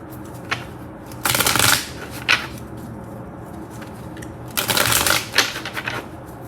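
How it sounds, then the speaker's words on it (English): Tarot cards being shuffled by hand, two longer riffling bursts plus a few short flicks and taps, close and fairly quiet with no talking. "let me pull some more cards here. See what these cards say."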